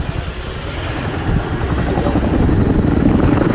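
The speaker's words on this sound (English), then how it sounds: "The Chinook pulls up to the vertical to begin the" A Chinook helicopter flies a display at RAF Fairford's air tattoo, its heavy rotor thump and roar loud and continuous, swelling slightly as it pulls up to vertical.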